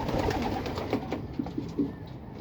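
A racing pigeon coos softly in a loft among other birds, low repeated coos over a steady murmur of background noise.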